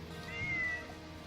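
A cat named Leonora gives a single short meow, a brief clear tone over steady background noise during a tabletop role-play session.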